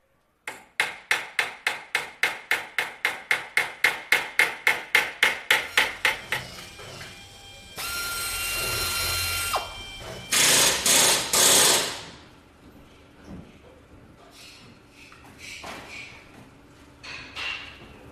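Flat sheet metal being hand-formed on a forming block for a Spitfire panel: a rapid run of about twenty sharp, evenly spaced hammer blows, then harsher scraping and grinding bursts before fading to quieter taps.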